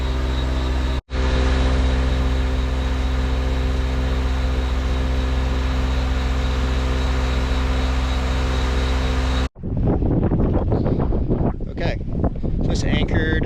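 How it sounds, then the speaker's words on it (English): Strong wind of about 15 to 20 knots at an anchorage in the Bahamas buffets the microphone in a loud, constant roar, briefly cut off twice before gusty rumbling continues. "Really windy, 20 knots maybe 15, 20 knots."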